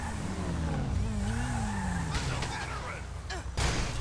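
A Dubsta 6x6 in GTA Online reversing and pushing with its rear bumper, a low engine drone with rising whine and tire-scrape noises, under a man's speech.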